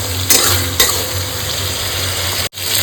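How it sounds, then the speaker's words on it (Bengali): Katla fish head curry stir-frying in a pan with a steady close sizzle, broken by a couple of sharp scraping stirs and a brief cut near the end, without talk. "এবার কষাবো, এবার যত কষাবো তত এর টেস্ট বাড়বে।"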